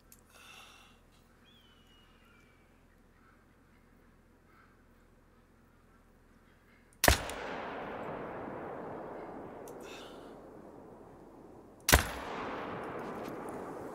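Two loud gunshots, several seconds apart, crack out in a quiet setting, and each blast rolls into a long, fading echo.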